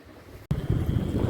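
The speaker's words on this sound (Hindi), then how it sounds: "जोरदार बारिश हो रही है, और जोरदार बारिश के बीच बाइक से हम भीगते हुए दोनों मियां बीवी गिफ्ट रिसीव करने जा रहे हैं" Heavy rain during a motorbike ride: a quieter moment gives way abruptly to a loud, continuous rushing of rain and wind buffeting close to the microphone.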